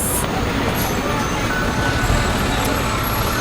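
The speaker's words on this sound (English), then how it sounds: "I'm outside and there's cars driving by, so it's probably too noisy to hear." A constant broadband rumble of road traffic outdoors, engines and tires droning without pause, loud and steady throughout.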